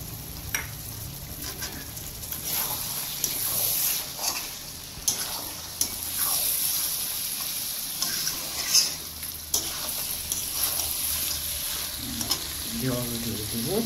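Mutton curry sizzling and frying in a pot as water is added, with steady stirring and scraping throughout, a continuous close hiss with occasional louder bursts.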